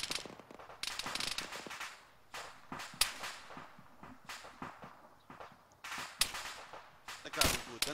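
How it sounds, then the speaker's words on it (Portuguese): Bursts of ArmA 3 gunfire crackle in sharp, irregular volleys during a co-op match, some rapid, with faint voices mixed in underneath. "Estou a receber tiro."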